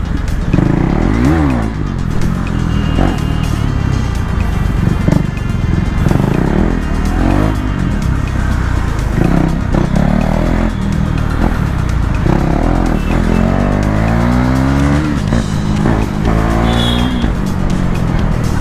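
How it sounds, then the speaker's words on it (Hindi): A KTM Duke 390 BS4 motorcycle is ridden hard through dense street traffic. Its loud engine note climbs and drops steadily through throttle blips and gear changes, with the wind and traffic noise of a close, continuous ride and no talking. "मज़ा आ गया यार इस बाइक को राइड करके"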